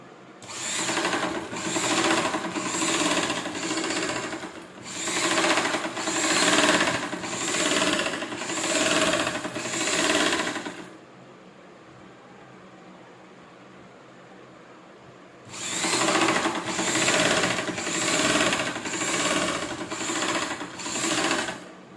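A sewing machine stitches pointed side pleats in rapid bursts of needle clatter. Close, steady runs stop for a few seconds of near silence, then the stitching starts again.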